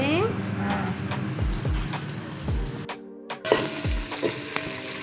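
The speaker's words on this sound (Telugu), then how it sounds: "బాగానే ఇలా బాగా మగ్గిన తర్వాత కరివేపాకు వేస్తున్నాము" Curry leaves hit hot oil in a pan while coconut rice is being made, giving a steady close sizzle with faint clinks and a short quiet gap before the frying noise resumes.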